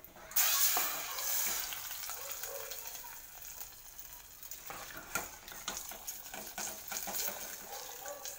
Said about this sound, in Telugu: తాలింపు అయితే వేస్తున్నాను చూడండి.